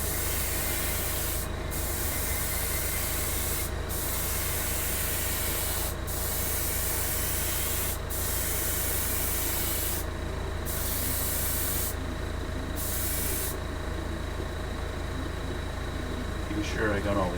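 An airbrush or spray can lays a coat of paint on a 1/32 scale Tamiya F-51D Mustang model, a steady loud hiss running throughout with brief gaps where the spray stops and restarts.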